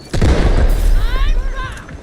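Gunfire in the video game Delta Force: a loud burst of booming shots with rumbling low end, under game voice chatter and radio callouts.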